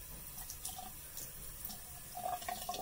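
Tap water runs into a small container already half filled with vinegar at a bathroom sink, a steady faint stream with a slightly brighter splashing patch toward the end.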